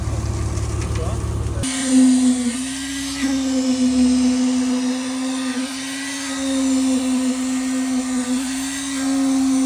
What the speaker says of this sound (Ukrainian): Заливаємо з міксера стяжку, тамбуємо, зараз будемо з вібратором.